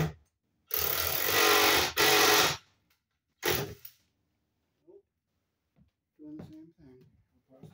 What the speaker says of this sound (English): but when I'm drilling, it just spins.